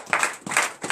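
A church congregation at a Sunday service claps in brief rhythmic bursts, about three quick rounds of hand claps heard fairly close.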